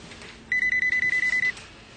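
Telephone ringing with a rapid electronic trill, ten quick pulses in about one second, loud and close, alone against a quiet room.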